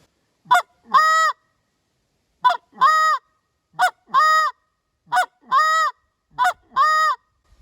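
Short reed Canada goose call blown by hand in four evenly spaced pairs, each a quick cluck followed by a longer honking moan, close, loud and clear with silence between.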